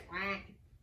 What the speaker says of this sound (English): with a quack quack here and a quack quack there